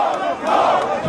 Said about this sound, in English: when the body appeared, the crowd went wild with emotion